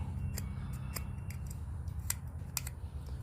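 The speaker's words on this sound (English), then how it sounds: "I'll just give that a scrape" Metal scraping at a corroded electrical contact on a CRF motorcycle, a series of short, sharp scratches over a steady low engine-like hum, close and fairly quiet.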